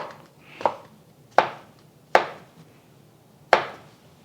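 Knife slicing mushrooms on a cutting board, four crisp separate chops, close and clear with quiet pauses between them.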